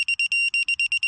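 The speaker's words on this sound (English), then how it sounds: "as you get close, the LEDs and the beeping start" A Tapha flex-head digital torque wrench sounds rapid, steady electronic beeps as it nears its target torque, a bright pulsing tone repeating about nine times in a second, close and clear with no talking.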